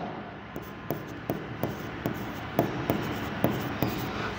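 A pen writes numbers on paper in steady, rhythmic scratches, roughly ten short strokes close to the microphone over a faint, constant background hiss.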